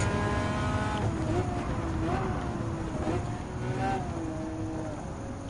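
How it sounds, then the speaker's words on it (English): Engines of an Enzo Ferrari and a 2006 Ford GT racing in Gran Turismo 7, a steady high droning roar with shifting pitch; a commentator talks over it. "here comes the Enzo Ferrari and the Ford GT 2006"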